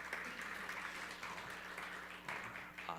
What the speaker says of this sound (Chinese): 我们拍手来欢迎他们哦